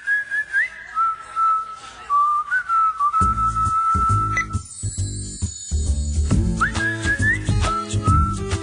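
A bright, melodic whistled tune carries an accounting software advert, clear and close, joined partway through by a bouncy musical backing of plucked and rhythmic instruments.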